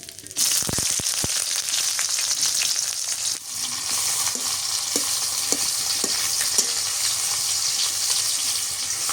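Cinnamon, garam masala, cloves and chopped onion frying in oil for a village-style beef curry: a steady loud sizzle with a few sharp clicks of spoon stirring against the pan near the start, continuing without talk.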